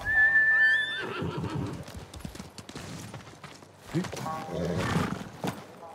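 In Ghost of Tsushima, a horse lets out a loud, high whinny, then its hooves pound in a fast galloping rhythm that keeps going, with a voice speaking over the hoofbeats.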